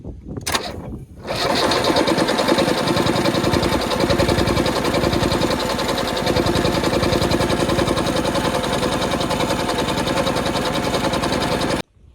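A Kubota KL-41 tractor engine at a potato harvest cranks briefly, catches and settles into a loud, steady close-up idle with a rapid even chug that runs unbroken for about ten seconds before cutting off.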